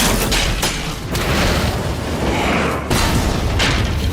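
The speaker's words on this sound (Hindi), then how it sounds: "बदबूदार गैस का धमाका" A cartoon stink gas explosion erupts as a loud, dense booming blast, sustained and rumbling with a sharp renewed burst near the end, filling the whole moment with heavy noise.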